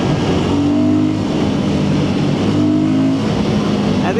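A Royal Enfield Guerrilla 450 motorcycle engine drones steadily while riding, a loud, close, continuous throb with slight rises in pitch and no talking.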